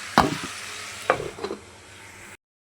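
Prawns with pointed gourd and potato being stirred in a pan: a few sharp spatula scrapes over a low sizzle, the last strokes fading before a sudden cut to silence.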